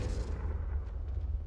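Expelliarmus disarming spell in Hogwarts Legacy fires as a short, heavy whooshing blast with deep rumble and a few crackles, loud and brief.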